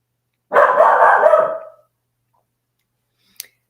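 A dog lets out one loud, close bark with a rough, drawn-out tail lasting about a second, then goes quiet, with only a faint short click after.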